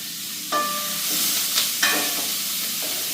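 Tomato sautéing in hot oil for a Jaffna-style fish curry, a bright continuous sizzle with a few spoon scrapes and stirring clinks against the pan, close up and with no talk.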